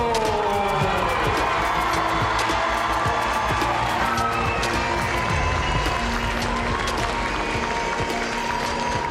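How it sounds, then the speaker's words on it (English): A large stadium crowd cheers and applauds loudly and continuously after Australia secures a joint gold medal, a dense roar of voices and claps with no let-up, and a commentator's voice runs faintly beneath. "Listen to that cheering."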